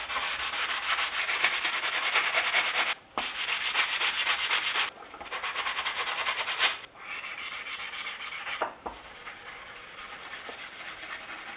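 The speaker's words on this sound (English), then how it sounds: "And next is the worn sanding sponge and steel wool." A worn sanding sponge and steel wool scrub a Winchester transitional plane iron in long continuous bursts of dense hissing abrasion, close up, broken by a few short pauses, with no voices.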